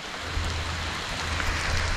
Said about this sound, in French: Il pleut super beaucoup ici.